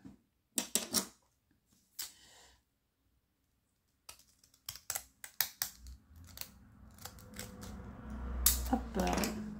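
Pinking scissors from Lidl cutting through material, a few crisp snipping bursts, a pause, then faster runs of close crunchy cuts with some handling noise.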